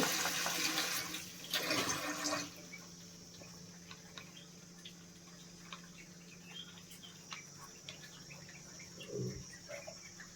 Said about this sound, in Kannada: ಇನ್ನು ಸ್ವಲ್ಪ ನೀರು ಹಾಕ್ಕೊಳ್ತಾ ಇದ್ದೀನಿ